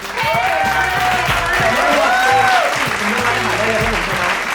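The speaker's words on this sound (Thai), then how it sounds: "ขอเสียงปรบมือให้กับทุกคนด้วยครับ" A group claps loudly and steadily while voices talk and shout over it, close by.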